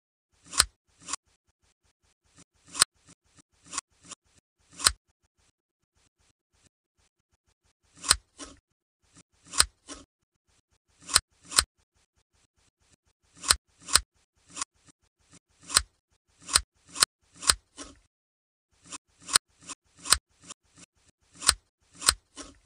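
Surgical scissors cutting skin in a belly fat surgery animation, crisp isolated snips that come singly and in quick clusters against near silence.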